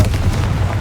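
Confringo explosive spell in Hogwarts Legacy, a loud, deep rumbling boom heard close up for under a second.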